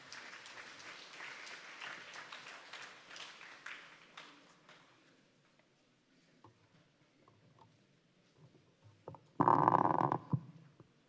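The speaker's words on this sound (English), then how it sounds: "Can we give them a round of applause as they come, please?" Audience applause at a graduation ceremony arrives as a short, loud burst of clapping near the end, after a long, quiet stretch with faint movement and scattered small sounds.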